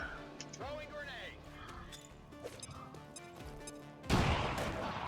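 An armor-piercing grenade explodes in the XCOM 2 Long War video game, a sudden loud blast bursting in near the end after game sound effects and someone talking.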